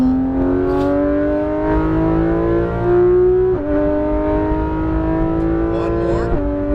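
Porsche 991 GT3 RS under full throttle on a race track, its engine a loud, steady high-pitched wail climbing in revs, with quick upshifts near the middle and end, heard from inside the car.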